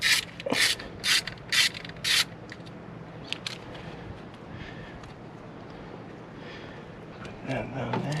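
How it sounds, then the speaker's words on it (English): Ratchet wrench working 8mm bolts on a 2008 BMW 328xi valve cover: four quick loud bursts of clicking in the first two seconds, then faint rubbing and handling noises, close up. "Now I gotta take off those 8mm bolts."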